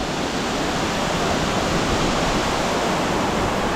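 A waterfall on the NC500 route through the Scottish Highlands gives a steady, loud, broadband roar of rushing water that stays close and unbroken throughout, with no voices.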